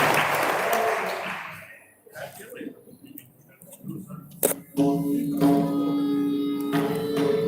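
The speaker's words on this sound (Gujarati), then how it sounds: "એમને આપણે વિનંતી સ્વીકારી હોય તો જોરદાર તાળીથી એમને આદર આપો" Audience applause at a kirtan gathering in the Shri Lalvad Raiji temple, a dense clapping that fades out over about two seconds, followed by scattered voices and then music.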